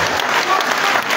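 Audience applause after a drama performance by young people at a youth empowerment event, a short, loud burst of crowd clapping.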